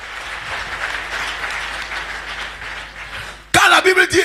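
A church congregation claps loudly and steadily as a continuous wash of applause, then breaks off abruptly as a voice starts talking.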